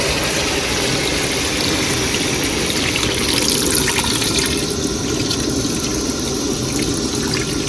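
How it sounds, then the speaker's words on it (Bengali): Water is poured into a pot of cooking meat, a constant, loud, close rush of liquid that stays steady from start to finish with no talking. "মাংস ফুল কষানো হয়ে গেছে আবার জল দিয়ে দেবো"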